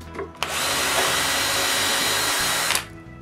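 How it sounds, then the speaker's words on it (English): Power drill boring nail holes in a wooden tray, a loud steady whine that spins up sharply, holds for over two seconds, then cuts off, with no talking. "I can drill holes for some nails."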